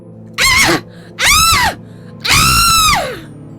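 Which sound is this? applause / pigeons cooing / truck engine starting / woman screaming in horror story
woman screaming in horror story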